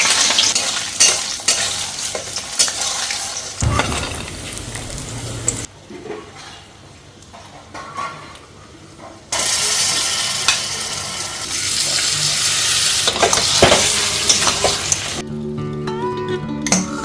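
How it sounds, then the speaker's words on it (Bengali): Coconut frying in a pan sizzles loudly and close, broken by stirring scrapes and a few seconds of near quiet. Sizzling resumes, then water splashes and clinks sound near the end. "নারকেলটা ভেজে নিচ্ছি"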